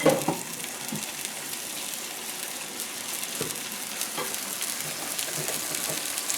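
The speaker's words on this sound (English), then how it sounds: "bit of a sizzle." Tuna steak sizzling in a hot pan alongside lobster tail, a steady crackling fry throughout with a few louder pops, moderately quiet and close, no voices.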